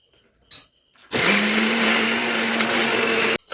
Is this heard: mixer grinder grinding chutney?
yes